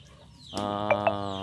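Native chickens on a farm feeding near a hut, with two short clucks over a steady low hum, close by.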